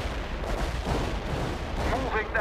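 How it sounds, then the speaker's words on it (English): Artillery barrage in the real-time strategy game World in Conflict, a dense roll of distant explosions and gunfire rumbling steadily throughout, with radio-style voices chattering over the battle. "We're ready with the artillery."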